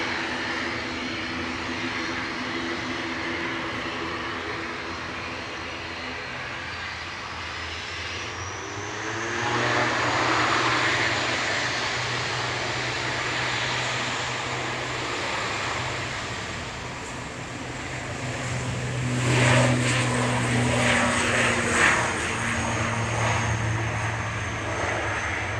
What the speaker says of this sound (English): That's Aer Lingus Regional operating over to Dublin there with flight 3327 EIGPP and ATR 72600 operating that flight this evening.